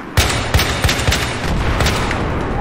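Rapid gunfire in Battlefield 4 on Xbox 360, a dense volley of loud, sharp shots in quick succession over a noisy battle bed, close and continuous across the few seconds.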